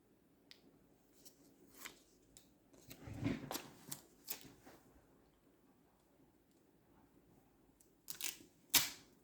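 Football stickers being stuck into an album make scattered soft peeling, tapping and crinkling sounds, quiet and close, with a few sharper clicks near the end.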